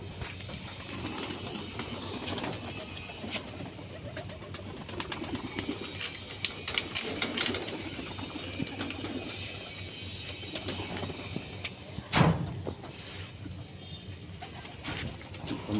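Pigeons coo repeatedly inside a pigeon loft, soft throaty calls overlapping close by, with a brief flutter of wings and a sharper rustle near the end.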